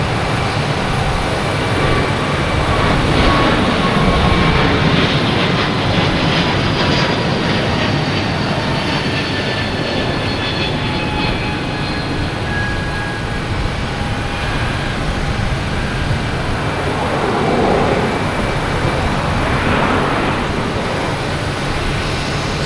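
A jet airliner roars on takeoff at Boston Logan Airport, a loud, continuous engine rumble with a rising whine that holds steady for over twenty seconds, heard from outdoors with no talking.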